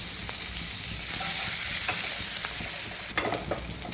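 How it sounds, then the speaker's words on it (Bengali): A handful of onions fries in refined oil with a little ghee in a wok for chicken tehari, giving a loud, constant close-up sizzle, with spatula scrapes and stirring clatter toward the end and no voices. "এবার এই এক মুঠো মতো পেঁয়াজ কড়াইতে দিয়ে একটু বেরেস্তার মতো করে ভেজে নেব।"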